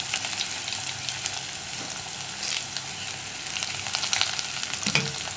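Dried red chilies, ginger, sliced onion and curry leaves frying in oil for a curd curry, a dense steady sizzle under intermittent scrapes and stirs of a spoon, near and moderately loud, with no speech.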